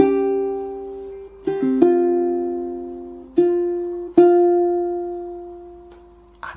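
Jazzy fingerstyle ukulele playing, a few plucked notes and chords left to sustain and decay with vibrato, soft and unhurried with gaps between phrases.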